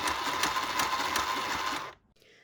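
A sewing machine unplugged from the mains runs with a steady, loud mechanical whir for about two seconds, then stops abruptly, leaving near silence.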